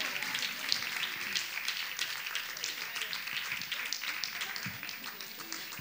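Audience clapping for the technical staff at a farewell event, a moderate, somewhat thin patter of applause spread over several seconds, fairly steady and not very loud.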